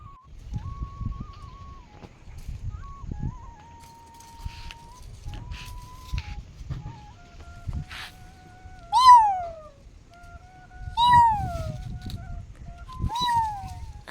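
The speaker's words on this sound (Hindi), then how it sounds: "बिल्ली है," A female cat in a dim village house in Himachal Pradesh meows several times, rising and falling cries, with a steady whistling tone and faint human chatter in the background.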